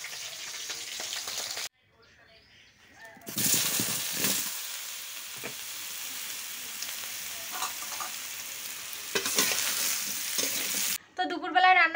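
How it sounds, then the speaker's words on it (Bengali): Tilapia fish frying in oil in a pan in a home kitchen, a bright hissing sizzle that comes in long stretches broken by short quiet gaps, close and steady. "আমি মাছ ভাজি করছি, এগুলো হচ্ছে সব তেলাপিয়া মাছ।"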